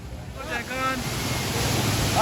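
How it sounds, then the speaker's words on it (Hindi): Kempty waterfall in Mussoorie roars as a steady broadband rush of falling water, loud and continuous, with a brief voice heard over it near the start. "ये है कैंपटी वाटरफॉल"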